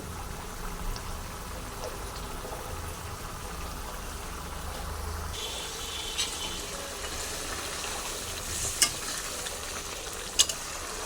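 Prawn malai curry cooking in ghee as it is stirred, a soft steady bubbling and sizzle with a few faint clinks of a utensil near the end.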